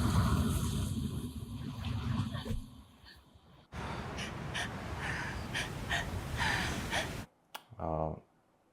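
A woman in an A24 film gasps and breathes heavily: ragged, audible breaths and gasps, with a person talking over parts of them and a short sharp intake near the end.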